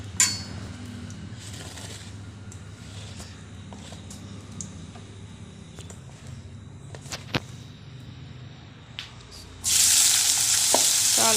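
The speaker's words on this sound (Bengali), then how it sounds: "তো দেখো কড়াতে তেল দিচ্ছি, দেওয়ার পরে এরপরে আলুগুলো দিয়ে দেব।" Potatoes fry in oil in a wok, starting with a low, quiet hiss and a few clinks, then bursting into loud, bright sizzling near the end.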